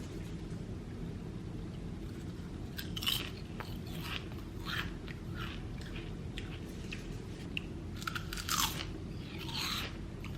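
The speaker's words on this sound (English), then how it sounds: "So I don't know if you guys heard that crunch" Crisp crunching bites into a vegan savory snack, several sharp crackles scattered through about ten seconds of close chewing, with a steady low hum running underneath.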